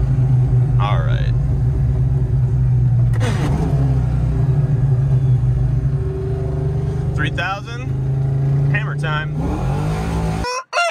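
A nitrous-equipped car with no heater idles roughly at high RPM in 19-degree cold, a loud steady engine drone with occasional sharper revs and rattles, while someone talks over it throughout.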